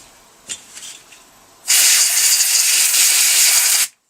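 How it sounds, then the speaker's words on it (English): A steady, loud hiss of compressed air blasts for about two seconds, blowing debris out of the reed valves of a carburetor from a 1983 Yamaha RS125DX motorcycle, preceded by a few faint clicks and ending abruptly. "I love compressed air."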